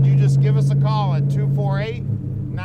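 A 1926 Ford Model T street rod engine drones steadily, then drops in pitch as it downshifts, with someone talking over the running motor.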